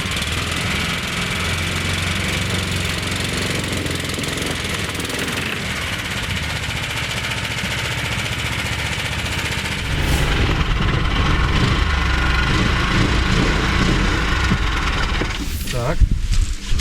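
A small motor runs steadily and loud throughout, roughening and getting louder about two-thirds of the way in, with a voice speaking over it.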